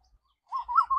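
An Asian koel calls in a few short, rising whistled phrases, clear and fairly close, after a brief quiet start.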